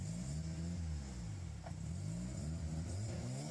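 Rotary-engined car with an aftermarket wastegate and blow-off valve, heard outdoors in a street, revving steadily with a rising and falling engine drone, close and fairly loud, with light clatter over it.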